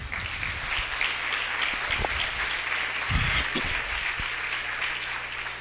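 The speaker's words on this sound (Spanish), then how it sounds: "Un aplauso para ustedes" Audience at a Spanish-language health business meeting applauding steadily, a dense even wash of clapping with a few whoops, sustained throughout.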